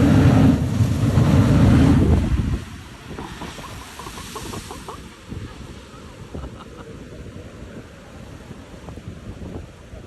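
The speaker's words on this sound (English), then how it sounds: "the waves from the Indian Ocean were really crashing against these rocks" Indian Ocean waves crash against coastal rocks at a blowhole site, a loud rushing surge for the first couple of seconds that then gives way to a lower, steady wash of water and wind noise.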